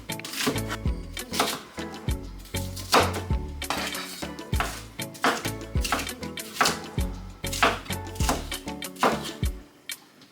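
Ingredients for Jamaican curry cow foot are chopped on a board, a series of sharp, close knife knocks in an uneven but steady rhythm, with no one talking.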